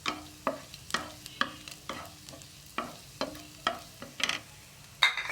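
Meal maker soya chunks fry in a pan for fried rice while a spoon stirs them, scraping in a steady rhythm about twice a second over a soft, continuous sizzle.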